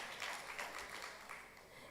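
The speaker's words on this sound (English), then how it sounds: "A round of applause for him" Applause from a conference audience at a Nigerian Bar Association business law event, a steady patter of many hands clapping at moderate, fairly distant level, sustained and even with no voices on top.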